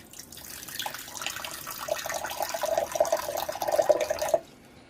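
Water pours steadily into a container for rinsing, a continuous splashing trickle that grows a little louder before stopping abruptly near the end.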